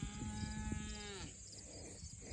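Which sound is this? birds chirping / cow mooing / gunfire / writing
cow mooing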